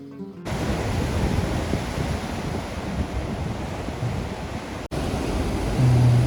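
Loud, continuous roar of large Atlantic Ocean waves breaking on Tenerife, mixed with wind buffeting the microphone, with a brief cut near the end.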